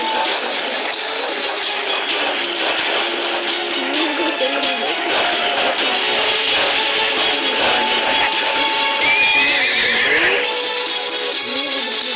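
A horse neighs and whinnies over a dense, continuous game-style soundscape of music and effects, loud and unbroken throughout.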